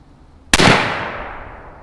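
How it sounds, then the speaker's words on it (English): A single loud suppressed rifle shot from a 450 Bushmaster fitted with a GSL Bushman 450 suppressor, a sharp crack at an outdoor range followed by a broad rumbling tail that slowly fades. "now we got the Bushman 450 on. Let's see how she sounds."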